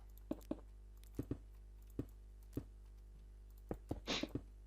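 Computer keyboard keys clacking during a Minecraft build-battle game, a sparse run of sharp individual clicks with pauses between them, fairly close and moderately loud over a steady low hum.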